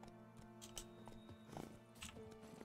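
A horse gallops in the Witcher 3 video game, with quick clip-clopping hoofbeats over a faint music and ambience bed, quiet and steady without speech.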